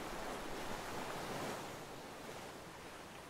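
Ocean waves wash in a steady, broad roar of surf that swells and then eases slightly, with a faint windy hiss and no voices.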